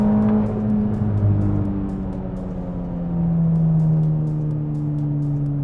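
Exhaust note of a VW MK6 GTI fitted with a CTS Turbo downpipe, a steady engine drone from inside the car that rises slightly in pitch mid-clip as it accelerates on a road, with no talking.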